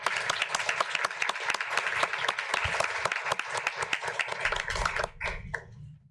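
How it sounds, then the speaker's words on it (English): Applause at a board of trustees meeting: a dense, steady round of clapping from the room that holds for about five seconds before thinning out and stopping. "I think that deserves another great big round of applause to everyone"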